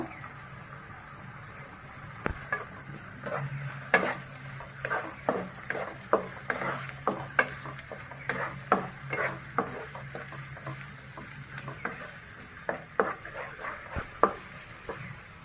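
Onion and garlic paste frying in oil for a beef bhuna curry, a constant low sizzle with a quick run of spoon scrapes and clinks against the pan, close up and with no voices.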